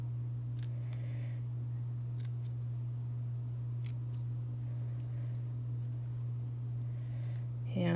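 Scissors snip through paper for a handmade birthday card in several short, crisp cuts over a steady low hum, close and fairly clear, with no talking.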